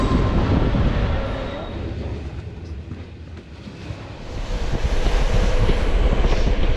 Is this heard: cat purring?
no